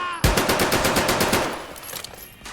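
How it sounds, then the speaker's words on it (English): Automatic fire from an MP40 submachine gun in a WWII virtual-reality game, a steady rapid string of about fifteen close, punchy shots that gradually thin out and fade with a ringing tail. "the MP40 doesn't go wild like other automatic weapons do when firing the entire magazine at once"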